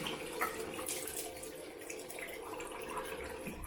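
A Merkur 34C HD safety razor is rinsed under a running tap, with steady close splashing water and small drips throughout.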